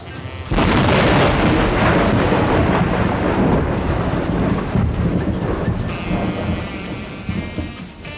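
A thunderstorm breaks with a sudden loud thunderclap, followed by heavy steady rain pounding on surfaces and a long rolling rumble that slowly fades.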